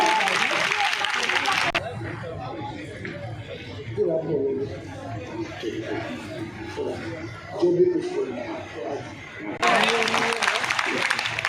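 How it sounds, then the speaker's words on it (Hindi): Loud applause from an audience welcoming a speaker, bursts of clapping at the start and again near the end, with crowd chatter and murmuring filling the gap between them. "तो उनका नाम से हम थोड़ा जोरदार ताली मार दें और उनको स्वागत करते हैं।"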